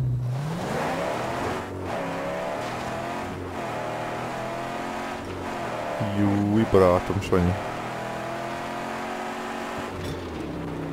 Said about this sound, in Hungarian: Nézd, mint egy gyorsági motor olyan hangja van.